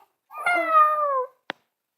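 A domestic cat gives one clear, drawn-out meow close by, followed by a short sharp click, with no voices over it.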